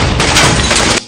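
Gunfire in an action film scene, a dense loud burst of rapid shots filling about a second before cutting off abruptly, with no speech.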